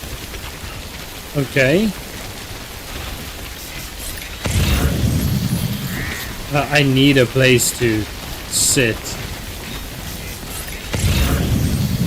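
Steady rain hisses in a video game, a constant wash of droplets that swells louder in bursts, while a person talks over it.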